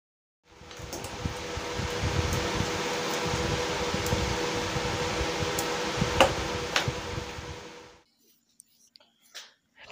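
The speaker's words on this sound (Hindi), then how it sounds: "कूलर की आवाज़ थोड़ा ज़्यादा है" An air cooler runs with a steady, broad whooshing fan noise that fills the room for about eight seconds before stopping abruptly, leaving near silence with a few faint clicks.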